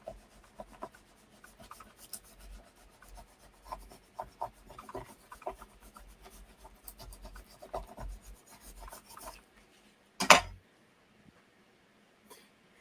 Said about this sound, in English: Okay, so we're just scraping along.